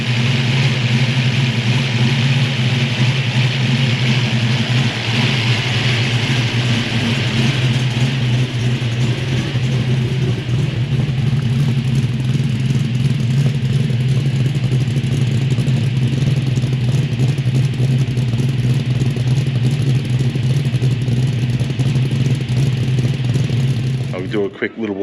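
Supercharged 1000hp LSX V8 in a VN car idles loud and close after its first start, a steady lumpy rumble with clatter running throughout until it cuts off near the end.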